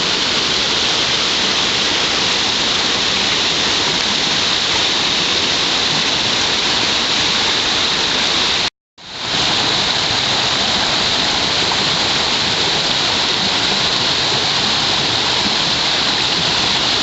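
Flint Rock Creek rushes by in a steady, loud, close wash of flowing water that runs unbroken except for a brief dropout midway.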